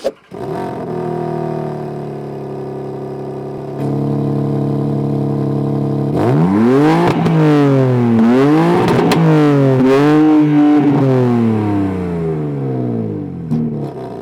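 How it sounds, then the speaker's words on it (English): BMW M3 Touring exhaust heard up close: a steady idle, a step up in pitch, then several sharp throttle blips that rise and fall in swooping arcs before settling back down. "you're gonna listen to the exhaust anyway"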